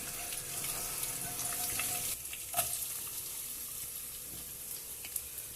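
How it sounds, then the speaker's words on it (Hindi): Garlic sizzling and frying in a pan, a steady faint crackle with a brief clink partway through and no voices over it. "बस इसको थोड़ा सा हम पकाएंगे, लहसुन को इसकी अच्छी सी खुशबू आने तक पकाएंगे।"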